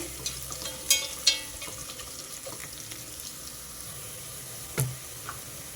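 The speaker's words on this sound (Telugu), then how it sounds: "బాగా వేగనిస్తా ఉల్లిపాయ చక్కగా వేగిపోయిందండి" Onions fry in a pan with a soft, steady sizzle under a quiet background, broken by a few sharp clinks of a utensil against the pan, with no one talking.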